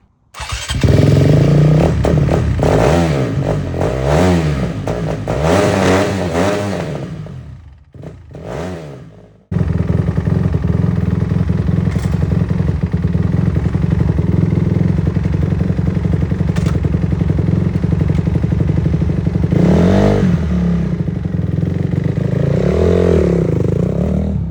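A dirt bike engine sputters to life, dies briefly, then starts again and settles into a loud, steady idle with occasional throttle blips, close to the listener.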